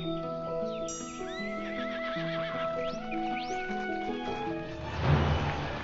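Horse whinnying over clip-clopping hooves in the Star Stable video game, with the neigh rising near the start and steady hoofbeats continuing throughout, closely miked and unaccompanied by talk.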